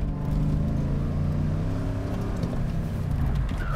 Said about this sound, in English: We'll do a few more donuts